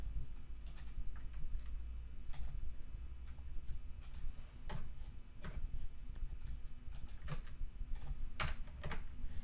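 Typing on a computer keyboard, soft irregular clicks of individual keystrokes coming quietly and close at an uneven pace, with no talking.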